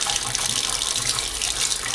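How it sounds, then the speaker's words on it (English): Water from a kitchen tap rinses natural cleaning solution off a sink, a steady, loud, close splashing rush running unbroken the whole time with no voices. "I usually have no problem just rinsing it right off"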